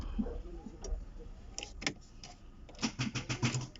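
An Opel car that was towed in is cranked in an attempt to start it, giving a quick run of rhythmic starter bursts near the end after scattered clicks and handling noises, with a voice briefly heard.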